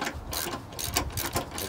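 A ratchet clicks in quick repeated bursts while tightening the motor mount bolts to the frame of a 2012 Dodge Journey, a close, moderately quiet mechanical ticking heard alone.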